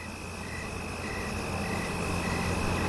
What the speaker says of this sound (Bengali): জোনাকি পোকাগুলো সমান তালে ডাকাডাকি করছে